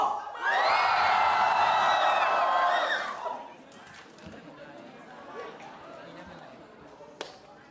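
A large crowd at a lively gathering erupts in loud, sustained shouting and cheering for about three seconds, then drops to scattered chatter and murmuring voices with a sharp clap-like knock near the end.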